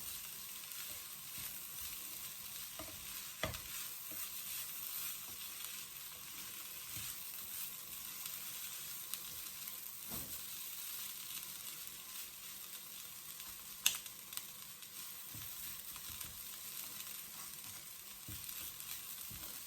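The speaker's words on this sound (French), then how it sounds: "Après, je vais rajouter de l'eau chaude." Lentils cooking in a pan sizzle and fry steadily at moderate volume, a continuous crackling hiss with a few sharp clinks or pops scattered through, no voices.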